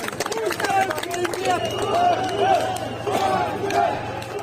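Street crowd in Rostov-on-Don cheering Wagner mercenaries: a steady, spontaneous hubbub of many voices with scattered shouts and whistles rising over it, moderately loud and continuous throughout.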